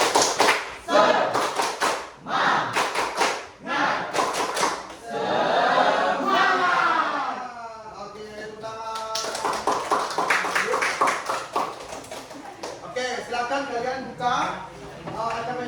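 Students in an Indonesian classroom perform a patterned spirit clap, sharp rhythmic claps in bursts interleaved with chanted voices and a teacher talking.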